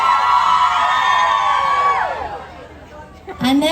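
A concert crowd of girls cheers and whoops loudly for several seconds, with high screams that fade briefly before a fresh burst of shouting rises at the end.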